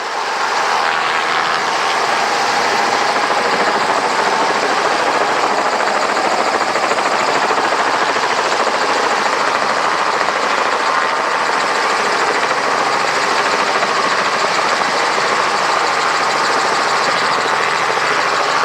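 Robinson R44 helicopter hovering low over a ramp and turning its nose about a point, giving a steady, loud, close broadband engine and rotor roar that holds without break throughout.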